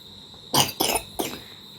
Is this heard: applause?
no